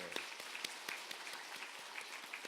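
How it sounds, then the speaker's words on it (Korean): A Korean church congregation applauds a young man returning from a year of short-term mission work in Myanmar, with scattered claps and a soft, distant wash of clapping at low level throughout. "잠깐 일어나시면 우리 큰 박수로."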